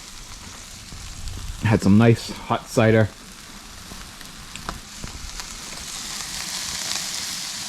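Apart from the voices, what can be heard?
burgers sizzling on a grill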